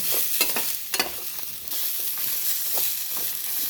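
Chopped gooseberry (amla) pieces with ginger sautéing in a pan, a soft continuous sizzle with light stirring scrapes and a few utensil taps, close and fairly quiet.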